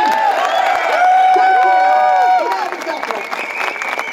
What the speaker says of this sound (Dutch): Mag ik een applaus voor Ellen?